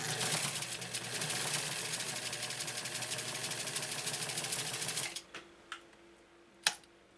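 A 1956 Atlas sewing machine with a tired needle runs steadily for about five seconds while stitching material. A loud, even mechanical whir with rapid rhythmic ticking stops abruptly and is followed by a few close clicks and clunks.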